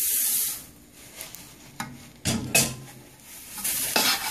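Rice Krispies are mixed in a pot with a spoon: soft rustling and scraping strokes, with a few louder clanks and scrapes against the pot around the middle and end.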